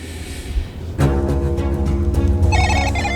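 A mobile phone rings with a repeating electronic ringtone that starts abruptly, steady and fairly close, with a brighter high melodic pattern joining near the end.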